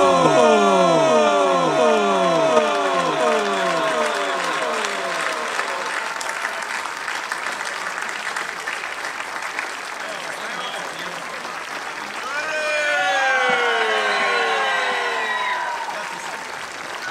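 Loud, sustained crowd applause at an outdoor concert on a town square, a broad wash of clapping with tonal cheering sweeps and whistles over it, swelling again near the end.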